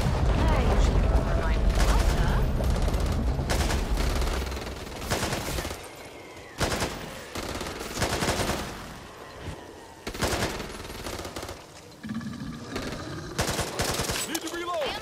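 Rapid game gunfire from the zombie shooter Back 4 Blood, loud and dense bursts of shots cutting in and out across the stretch, with other game noise around them.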